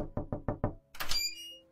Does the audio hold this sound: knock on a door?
yes